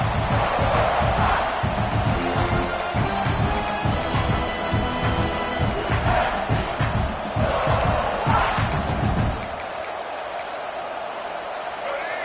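A stadium crowd in an American football video game roars steadily throughout a defensive stand, loud and continuous beneath a commentator's talk, easing off near the end.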